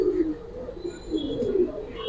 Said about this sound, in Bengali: এটা মিরপুরের বড় ভাইয়ের কবুতর